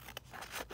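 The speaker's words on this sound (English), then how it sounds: "I'm just going to trim the edges down" Edges of a leather side-loading fold-out pocket being trimmed by hand, giving a couple of quick, faint snipping cuts close by in a quiet room.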